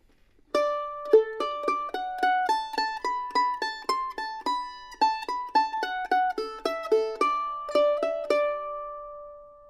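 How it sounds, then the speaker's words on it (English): Mandolin playing the final phrase of the tune "Colossus", a steady run of crisp picked notes with some double stops, ringing out close and alone before the last note fades. "So that last phrase altogether will sound something like this."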